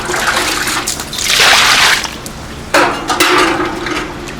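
Water splashes and sloshes as dried grass carp is scrubbed and rinsed by hand, in two loud bursts of rushing water and wet rubbing with short knocks in between.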